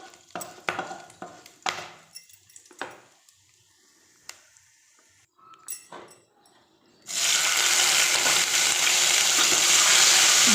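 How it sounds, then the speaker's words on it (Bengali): Whole cumin, cardamom pods and bay leaves go into hot oil: a few seconds of sparse clinks and pan clatter, then a sudden loud, steady sizzle that carries on to the end. "তেল গরম হয়ে গেলে গোটা জিরে, গরম মশলা মানে গোটা এলাচ, দুটো তেজপাতা আর এই যে গরম মশলা এইসব দিয়ে দিলাম"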